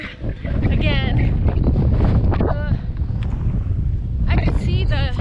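Wind blows hard into the microphone outdoors, a constant low buffeting roar beneath a person's voice.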